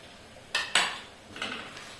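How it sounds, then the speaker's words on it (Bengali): Red chili powder and ground cumin stirred in a cooking pot for egg and chicken biryani, heard as two sharp scraping strokes of a spoon against the pot followed by a softer scrape, close and alone. "ভালো করে নেড়ে নিচ্ছি।"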